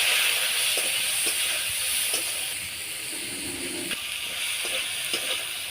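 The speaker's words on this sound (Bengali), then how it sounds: "তেলটা গরম হয়ে গেছে, এবার চিংড়ি মাছগুলো দিয়ে দিচ্ছি" Shrimp fry in hot oil, giving a soft, steady sizzle and hiss with a few faint clicks, quiet and without voices.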